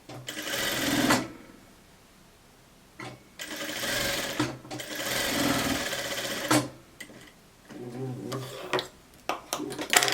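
Sewing machine running in short bursts as it stitches the facing at the shoulder of a blouse: three sustained runs of motor whir separated by pauses, then a string of quick, choppy stitch bursts near the end.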